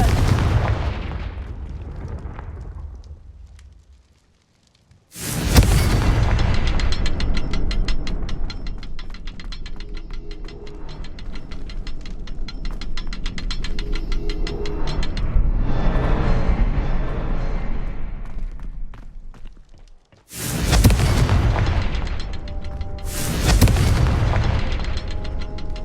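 Loud Confringo spell blasts in the Hogwarts Legacy video game at Rookwood Castle: a single heavy explosion after a quiet lead-in, a long rumbling stretch, then two more sharp bursts close together near the end.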